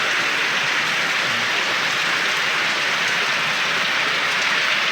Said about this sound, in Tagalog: Grabe, napakalakas ng ulan na to.